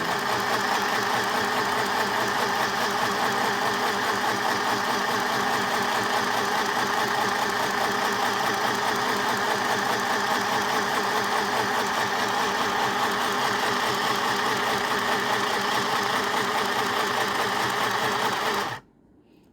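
A mini sewing machine runs continuously at a steady, fast mechanical whirr and rattle for nearly twenty seconds, close and loud, then stops abruptly near the end.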